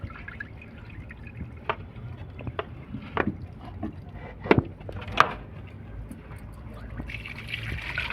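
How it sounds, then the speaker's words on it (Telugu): Water that was used to wash fish is poured out, heard as sporadic drips, splashes and light knocks, fairly faint and irregular, with a soft sloshing swell near the end. "ఈ వాటర్ని అంతా మళ్ళీ పారపోసేస్తాం."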